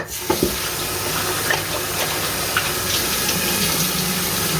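Running water from a tap while a face is rinsed, a steady close splashing rush with small irregular splashes throughout, no speech.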